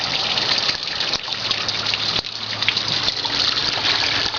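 Water gushes steadily through a small tabletop drop trap sluice, a continuous close-up rushing wash that holds at an even, fairly loud level with a few brief dips and no voices over it.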